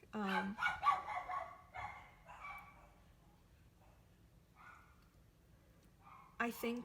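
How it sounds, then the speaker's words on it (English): Dogs bark and yip in a quick burst at the start, then fall quiet, with a couple more barks near the end; a faint voice underneath. "the dogs are barking again"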